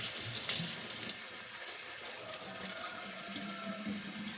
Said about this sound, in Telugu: మళ్ళీ దీనికి వాటర్ ఫిల్అప్ చేసుకొని ప్లాంట్ పెట్టించుకోవడమే